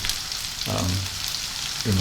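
Olive oil sizzles and crackles steadily in a frying pan as vegetables saute, with low thuds of something being stirred or moved partway through.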